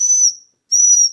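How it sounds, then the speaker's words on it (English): A plastic whistle packed with Nike Air Force 1 shoes gives two loud, shrill blasts, each about a third of a second long, separated by a short silence. "It also came with a whistle, which was interesting as well."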